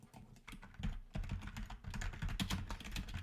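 Fingers type quickly on a computer keyboard, a close and busy run of clicking keystrokes with uneven rhythm and no talking.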